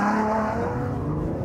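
A Ferrari FF, four-wheel drive, pulls at full throttle in first gear out of a hairpin, its engine note loud and close, rising steadily without interruption and carrying some tire noise.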